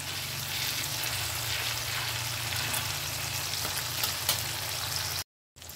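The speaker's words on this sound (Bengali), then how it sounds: "টমেটোটাকে আমি কষাতে কষাতে এর মধ্যে আমি বেসিক যে আমাদের মশলাগুলো আছে সেগুলো অ্যাড করে দেবো।" Tomato and spices fried and stirred in a pan for a Bengali potato-cauliflower curry made without onion or garlic, giving a steady soft sizzle with a low hum underneath and faint stirring, fairly quiet, then a brief silence near the end.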